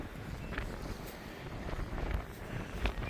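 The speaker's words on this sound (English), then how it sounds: "windy Sunday" Gusty wind buffeting the microphone outdoors on a windy day, a faint continuous rumble with a few louder gusts and no talking.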